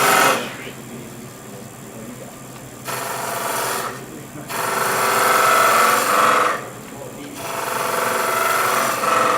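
Skew chisel cutting wood on a lathe while rubbing the bevel, a close rasping, whirring cut that swells and drops in several bursts between quieter spinning.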